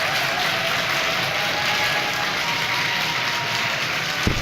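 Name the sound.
audience clapping hands and stomping feet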